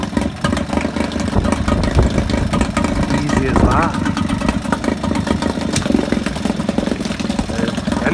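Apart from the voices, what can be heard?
vintage Yamaha 3.5hp air-cooled outboard motor running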